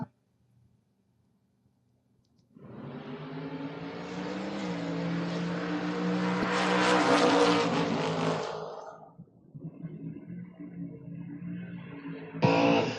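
A Camaro and a Mustang launch together in a drag race. After a quiet start, a loud, rising, sustained engine roar builds over several seconds, then fades, followed by a sharp burst near the end.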